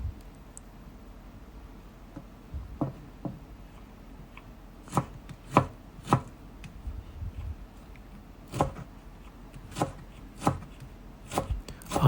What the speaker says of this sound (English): Now the time of chopping okra.